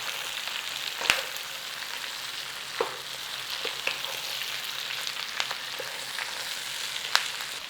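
Cabbage and bacon frying in a single pan, a low steady sizzle broken by scattered crackles and the occasional sharp knock of a utensil stirring against the pan, close and fairly quiet.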